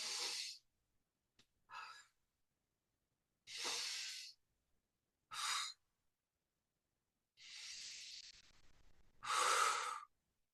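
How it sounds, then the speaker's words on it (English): Deep breaths drawn in and let out slowly in a quiet room, several separate breathy inhales and exhales with pauses between, close and clear with no talking. "The three is you take 3 deep breaths in and out."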